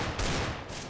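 A short, loud burst of gunfire in the video game CS:GO is heard, a rough broadband blast lasting under a second.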